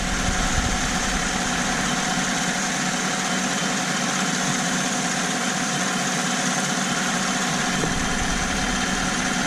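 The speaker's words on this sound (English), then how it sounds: "once the compressor kicks on, it'll kind of run down a little" The engine of a 2014 Chevrolet Silverado idles steadily with the AC compressor running, a constant mid-pitched hum and whir that shifts slightly near the end.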